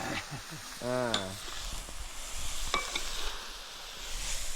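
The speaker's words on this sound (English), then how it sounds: "So he cook, he stir like this." Cicadas sizzle and fry in a pan at a jungle camp and get stirred in it, giving a continuous close hiss with scraping, and a brief voice speaks over it near the start.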